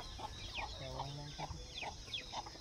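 Village chickens and a rooster cluck repeatedly on a farm among the sugarcane fields, short rhythmic calls at moderate distance over a steady background hum.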